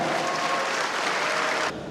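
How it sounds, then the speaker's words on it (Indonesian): An audience claps together at a stage event in Kupang, a loud, dense burst of applause that holds steady and then drops off abruptly near the end. "kita berikan tepuk tangan"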